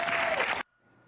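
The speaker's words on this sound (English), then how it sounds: "I mean, she got applause." Audience applause fills the first half second loudly, then cuts off abruptly, leaving faint room noise afterward.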